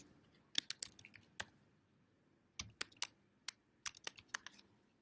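A computer keyboard is typed on in two short, quiet bursts of crisp key clicks separated by a pause of about a second, with no talking.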